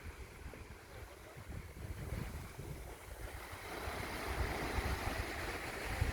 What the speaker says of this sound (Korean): 표선 바다에 왔다. 날씨가 좋네.